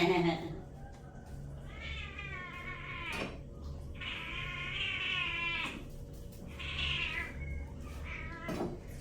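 A cat meows repeatedly and insistently up close, three long drawn-out cries with short gaps, alongside a light clatter and faint background noise.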